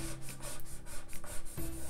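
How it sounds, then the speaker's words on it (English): Cricut permanent vinyl is burnished down onto an acrylic painting with quick, rhythmic scraping rubs, close and dry, about eight strokes in under two seconds with no talking. "Really burnish down, because this is very fine"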